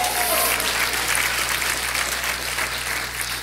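Congregation applauding during an evening church service, a steady dense wash of clapping that fills the whole stretch at even loudness, with a faint low hum underneath.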